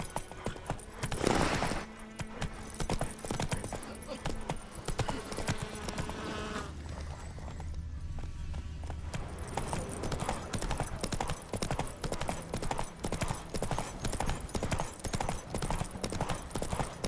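Horse hooves trot in The Witcher 3, a steady rhythmic clip-clop close up, running under game music and ambient noise for the whole stretch, with a brief lull midway.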